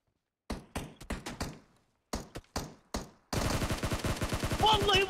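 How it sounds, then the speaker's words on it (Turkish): Sharp gunshots from PUBG Mobile ring out in short bursts, single and paired cracks with gaps of silence, then a dense rapid string of automatic fire runs to the end, close and loud. "Vallahi vurdum adam vurdum."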